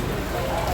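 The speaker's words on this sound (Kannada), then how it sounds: "ಮಳೆ ಅಂದರೆ ಮಳೆ ನೋಡಿ, ಎಂಥ ಮಳೆ" Heavy rain pours down outdoors as a steady, loud wash of broadband hiss, with people talking over it throughout.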